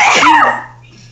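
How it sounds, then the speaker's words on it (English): One sharp, forceful sneeze bursts out close to the microphone, then trails off into quiet. "Are you gonna sneeze again?"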